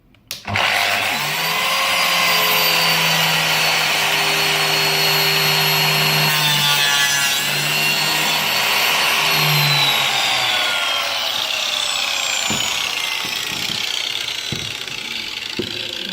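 A Lamello biscuit joiner cuts a slot in wood, its motor spinning up and holding a loud, steady whine with a rasping cutting tone for about fifteen seconds before winding down. No one speaks.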